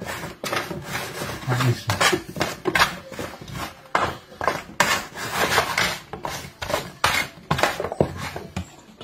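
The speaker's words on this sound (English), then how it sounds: "Give these a good stir up" A spoon scrapes and knocks around a metal roasting pan as food is stirred up with oil, giving repeated clattering, scraping strokes close by, with a few spoken words over it.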